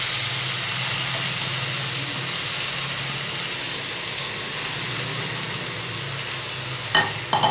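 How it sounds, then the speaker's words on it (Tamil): Ground paste for thuthuvalai rice, a garlic-flavoured Tamil dish, frying in a pan with a steady hiss throughout and a short burst of clinks and scrapes near the end, close and without voices. "இப்போ நம்ம அரைச்சி வச்சதை இதை நல்லா ஊற்றிக்கலாம்"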